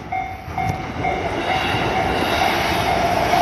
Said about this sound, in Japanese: お、今埼京線来ましたね。